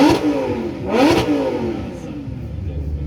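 A car engine with its rev limiter removed revs up to 8000 rpm, with rising and falling sweeps that peak twice, loud and close, and then settles into a rough idle.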